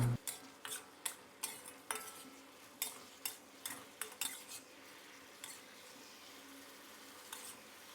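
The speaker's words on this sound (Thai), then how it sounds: "ให้เราผัดคลุกเคล้าให้เข้ากันนะครับ" Cauliflower and pork belly stir-fried with oyster sauce: repeated metallic clanks of a spatula against the pan in a quick rhythm over a low sizzle, thinning out toward the end, close and without talk.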